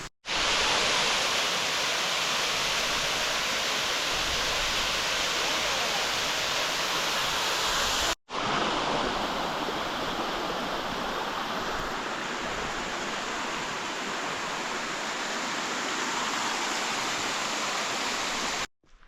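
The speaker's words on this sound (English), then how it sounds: "Definitely making our way through the waterfalls." Rushing waterfalls and a tumbling mountain stream along the Franconia Ridge trail, a loud, steady broadband roar filling the whole stretch, broken only by one brief dropout partway through.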